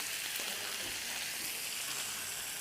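Lamb pieces searing in a hot pot give off a steady, close sizzle and crackle of frying meat that runs unbroken, with no one talking.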